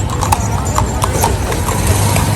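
Horse hooves clip-clop in a steady, close rhythm at a busy Chowpatty-style outdoor food area, with a low engine hum and crowd bustle underneath.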